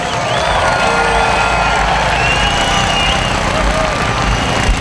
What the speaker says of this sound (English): Let's give those mini drivers a round of applause.